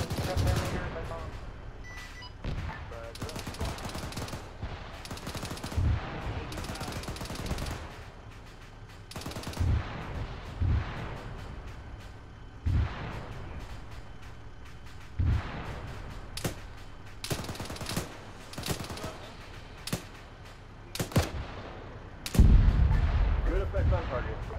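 Bombing run and combat gunfire in the military game Arma 3: repeated sharp gun reports and heavy booms scattered throughout, ending in a loud, close explosion near the end.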